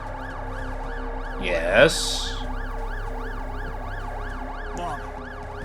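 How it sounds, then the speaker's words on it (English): A steady, rising-and-falling ambulance siren wails from The Alters video game, continuous and fairly loud throughout, with a brief whoosh and a single short spoken word over it. "Ambulance?"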